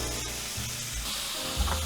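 Carrots and onions sizzling in about a tablespoon of leftover short-rib fat in a pan, a steady, close frying hiss with light stirring scrapes.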